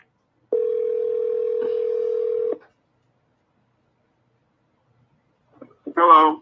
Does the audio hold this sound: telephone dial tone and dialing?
yes